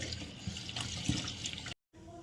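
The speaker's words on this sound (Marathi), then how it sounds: "मटण स्वच्छ धुवून घ्यायचं, 2-4 पाण्याने धुवायचं." Running water splashes steadily as mutton is rinsed under a tap, then cuts off briefly before a quieter stretch resumes.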